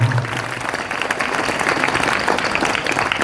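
A crowd at an evening religious gathering for National Santri Day claps steadily, a dense, even wash of applause that fills the whole stretch with a brief voice at the start.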